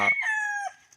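Red fighting rooster crowing once, loud and close, a single sustained call that tapers off within a second.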